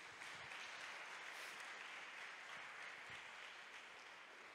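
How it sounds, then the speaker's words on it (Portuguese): A church congregation applauding during a sermon, a dense, even wash of clapping from many hands that holds steady without talk. "Vamos aplaudir ao Senhor por isso?"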